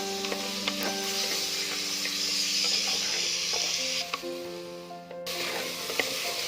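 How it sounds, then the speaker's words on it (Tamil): Chopped tomatoes sauté with onions in a pan for a dry fish kulambu, a continuous close sizzle with occasional stirring scrapes and clinks, no one talking. "தக்காளி சேர்த்து நல்லா வதக்குறேன்."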